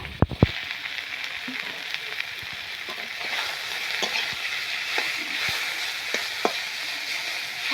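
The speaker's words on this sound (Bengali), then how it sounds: "এখন শাকটা দিয়ে দিচ্ছি।" Leafy greens hit a hot pan with onion and sizzle loudly and steadily, after a few quick clatters of stirring at the start and occasional light ticks of a spoon throughout.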